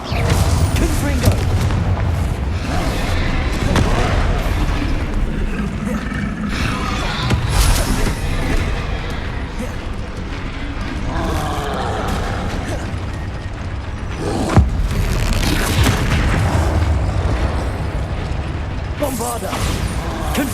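Spell blasts from Bombarda and Confringo in Hogwarts Legacy combat, dense booms and pops layered over constant clattering mechanical game noise for twenty seconds, with voice fragments mixed in.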